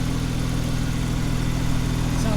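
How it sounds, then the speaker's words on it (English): A sports car with a center exhaust idles nearby at a cars-and-coffee meet, a steady throbbing low burble with even pulsing, close and fairly loud, without talk. "Sounds really good with the center exhaust."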